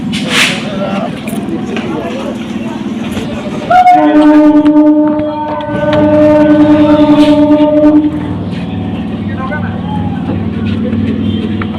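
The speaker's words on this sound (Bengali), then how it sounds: "উঠে পড়েছি আমি ট্রেনে আর ট্রেনটাও ছেড়ে দিয়েছে" A local train's horn blares for several seconds over a steady rumble of wheels and engine as it departs, with chatter and station noise around it.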